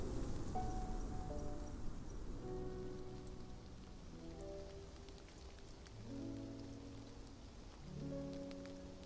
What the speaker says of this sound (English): Rainy days have their charm.